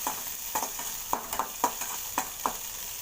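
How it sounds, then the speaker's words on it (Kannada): Cumin seeds sauté in a hot pan, a soft background sizzle broken by a series of sharp stirring scrapes and clicks roughly every few tenths of a second, close and alone. "ಜೀರಿಗೆ ಇದು ಸ್ವಲ್ಪ ಬಾಡಿಸ್ಕೊತೀನಿ"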